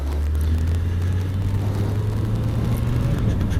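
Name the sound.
Suzuki GSX750F motorcycle engine while riding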